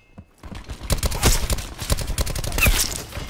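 Rapid gunfire bursts from Black Ops 4, dense strings of close, loud shots firing almost without pause after a quiet opening moment.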